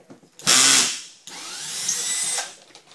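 A power drill drives a drywall screw in two close, loud bursts, the motor whining as the screw goes in with a brief pause between runs.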